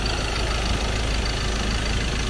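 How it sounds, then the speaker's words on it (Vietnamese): A 2017 Ford Ranger XLS pickup with an automatic transmission idles steadily close by. Its engine gives a smooth, even hum that stays constant from start to finish, with no voices over it. "Đây chính là con động cơ."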